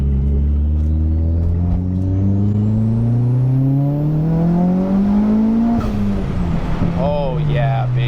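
Car engine revving hard through an acceleration pull on a car with a twin-disc clutch, pitch climbing steadily for several seconds, then dropping off at a shift before building again, loud and close throughout.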